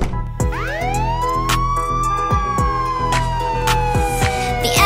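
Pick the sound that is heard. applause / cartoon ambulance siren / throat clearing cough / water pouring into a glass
cartoon ambulance siren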